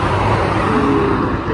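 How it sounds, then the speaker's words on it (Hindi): Cars speed past on a Kuwait highway in a dense, loud, steady roar of traffic and tyre noise heard up close. "ये साथ को हाईवे कुवैत का, भाई बहुत तेज़ गाड़ी जा रही है"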